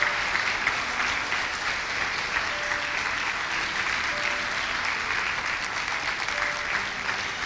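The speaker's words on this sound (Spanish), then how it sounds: "Le damos un fuerte aplauso al Señor Jesucristo por estas familias" Sustained audience applause fills a church service honoring families, a dense, steady wash of clapping that holds at an even level throughout without any voices breaking through.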